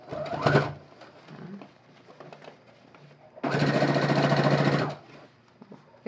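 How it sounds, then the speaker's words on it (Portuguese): A sewing machine runs in two bursts as it stitches a seam on fabric for a wine bottle holder: a short whir first, then a longer, steady, close rattling run of about a second and a half. "Então, eu vou colocar aqui na máquina."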